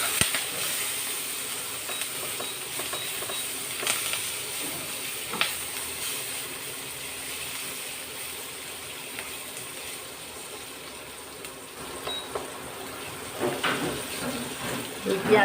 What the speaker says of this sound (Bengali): তেলের মধ্যে কুচিয়ে নেওয়া পেঁয়াজ, দুটো মিডিয়াম সাইজের পেঁয়াজ কুচিয়ে নিয়েছি, আর 3টে কাঁচা লঙ্কা দিয়ে দিলাম